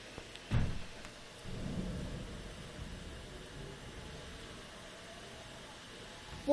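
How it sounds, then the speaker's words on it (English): A sharp crack followed by a low rumbling roll of thunder during a severe thunderstorm, with steady rain hiss continuing underneath. "don't you hear the lightning or the thunder?"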